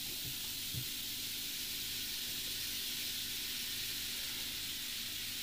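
Stain remover powder reacts and fizzes, making a steady, soft, even hiss that continues unbroken at low volume throughout.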